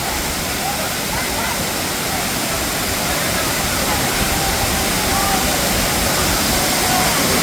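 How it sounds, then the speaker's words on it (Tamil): Thirparappu Falls pours down with strong flow, a loud, unbroken roar of crashing water that stays even and close throughout. "ஃபால்ஸ் வந்து இன்றைக்கி கொஞ்சம் தண்ணி நல்லா வருது"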